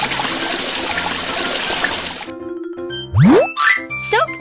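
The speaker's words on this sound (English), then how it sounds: "Turn on the faucet." Cartoon water gushes from a faucet as a steady hiss for about two seconds, then cuts off abruptly and gives way to bright, bouncy cartoon tones and sliding boing-like effects.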